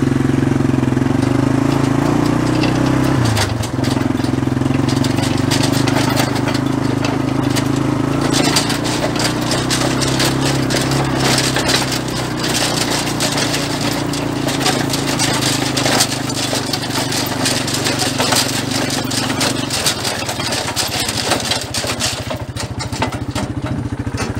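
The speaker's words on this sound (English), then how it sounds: "I'm gonna run this through the field at some pretty high speeds, faster than what I would mow with" A brush mower driven fast across a field, its engine droning loudly and steadily with shifting pitch and rattling, brushing clatter from the cut vegetation throughout.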